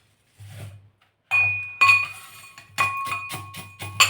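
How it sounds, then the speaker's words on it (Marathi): A mortar and pestle pound fried edible gum with light, irregular strikes. They give off sharp, close clinking metallic rings that sound alone, separated by short pauses. "आता आपण हा जो तळलेला डिंक आहे तो या खलबत्त्यामध्ये थोडासा असा कुटून घेणार आहोत"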